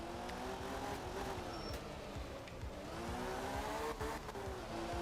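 A rally car drifts through a stage in Art of Rally, its engine droning loud and steady while the tires squeal in long wavering streaks through the slide, close and continuous for the whole stretch, no voices.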